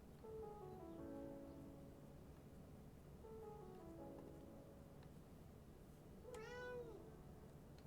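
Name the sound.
cat meowing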